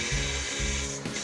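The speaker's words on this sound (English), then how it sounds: "I use the belt grinder to clean up the curved corners on the hinge" A belt grinder smooths the curved corners of a steel hinge, giving a loud, continuous abrasive whir whose pitch dips briefly as the metal is pressed against the belt and eased off again.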